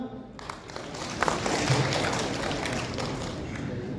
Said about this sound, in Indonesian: Yang ikut boleh tepuk tangan dong.